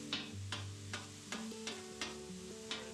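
Ground beef fries on a griddle while a spatula stirs and scrapes it, giving a run of sharp, regular scraping strokes over a low steady sizzle and a faint background hum.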